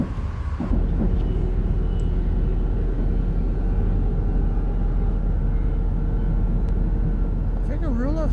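A Stadler GTW train in Train Simulator 2019 drives along with a steady low rumble and drone, running continuously beneath someone talking.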